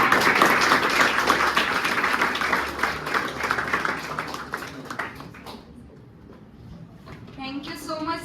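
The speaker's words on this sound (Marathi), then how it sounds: "सगळ्यांनी टाळ्या." An audience at a polytechnic coaching class event applauds a student for a top exam score; the loud clapping runs steadily, fades away around the middle, then a voice speaks briefly at the end.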